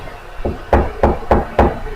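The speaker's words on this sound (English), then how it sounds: "Opportunity is knocking. Can you hear that?" Knocking on a door, about five sharp raps in a steady rhythm, the first softer and the rest loud and close, with nothing else heard.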